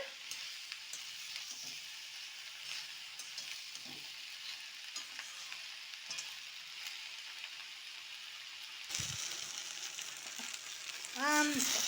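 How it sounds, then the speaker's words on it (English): Okra and onion sautéing in a pan, with a faint, steady sizzle and occasional stirring scrapes that grow louder and busier toward the end. "Then add okra cut into pieces and saute them together."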